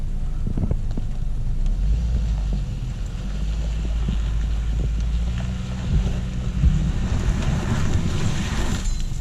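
Toyota RAV4 all-wheel drive straining through deep ruts on a muddy off-road trail at Hale Creek, a low rumbling engine and churning noise under heavy wind buffeting the microphone.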